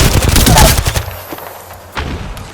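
Gunfire in the video game Apex Legends, a dense loud burst of rapid shots at the start that trails off into scattered echoing reports and a later thump.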